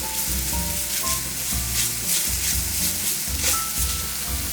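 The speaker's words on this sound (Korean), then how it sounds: "다진 마늘 1큰술, 양파, 파의 흰 부분을 넣고 볶아주세요." Minced garlic, onion and white scallion parts sizzle steadily in a hot pan, a dense continuous crackle with occasional scraping stirs, close and even throughout without any voices.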